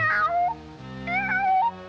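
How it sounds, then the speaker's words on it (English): A cartoon cat gives two close, clear meows, each a short rising-then-falling cry, separated by a brief pause, with no talking over them. "I'm that hungry little kitty cat you just read about."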